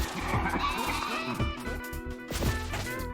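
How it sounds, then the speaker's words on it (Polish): The video game Pizza Tower plays a goat bleat sound effect, with short wavering bleats amid clattering in-game hits and crashes. "Czemu to nagle był dźwięk kozy?"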